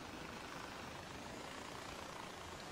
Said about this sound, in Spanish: Vamos a dejar el helicóptero un poco antes.